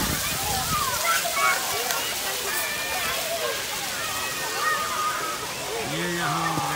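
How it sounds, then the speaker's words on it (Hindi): Water gushes out fast in a park where a child plays and bathes, a close, sloshing, splashing flow that runs continuously while people talk over it. "ये देखो पानी कितनी तेजी से निकल रहा है।"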